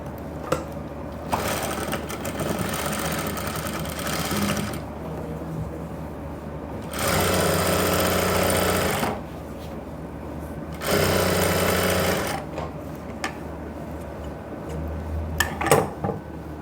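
A sewing machine stitches pant fabric, running in three long loud bursts of steady whirring with quieter pauses between them, alone with no talk.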